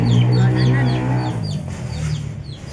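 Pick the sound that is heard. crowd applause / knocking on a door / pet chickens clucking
pet chickens clucking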